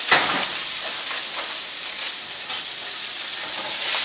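Udon noodles with chicken and vegetables sizzle loudly and steadily in a pan being tossed, a continuous bright hiss with slight swells as the food shifts.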